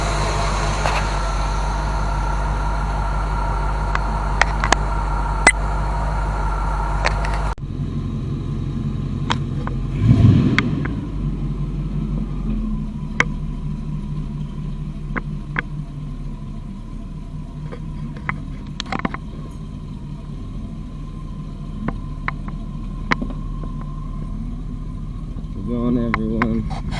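A Buick Riviera engine idles steadily with a low, continuous rumble and mid-range hum, changing tone partway through, with some faint background sounds and speech-like noise mixed in.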